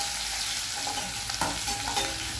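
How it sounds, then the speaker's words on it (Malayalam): Chopped ginger and garlic sautéing in coconut oil for lemon pickle, a loud continuous sizzle close up with brief stirring scrapes and clinks, no voices. "അതൊന്ന് നല്ലോണം വഴറ്റിയെടുക്കുക വെളിച്ചെണ്ണയിൽ."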